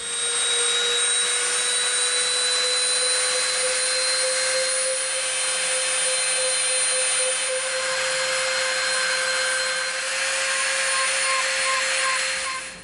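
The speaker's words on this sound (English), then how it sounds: "we're going to Dremel around this edge right here." Dremel rotary tool beveling the edge of EVA foam for a prop hand cannon, a loud steady high-pitched whine with a constant tone that holds close and continuous for the full length, with no talk over it.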